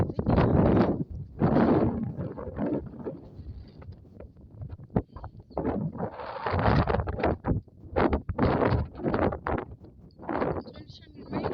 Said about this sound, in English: It's already somewhat windy.